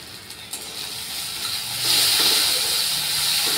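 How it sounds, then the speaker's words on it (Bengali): Ground cumin, turmeric and coriander fry with onions for a fish curry, hissing and sizzling up close with stirring; the sizzle swells louder partway through and then holds steady, with no voices. "দিয়ে সবগুলো ভালো করে আমি মশলাগুলো কষাবো পেঁয়াজের সাথে।"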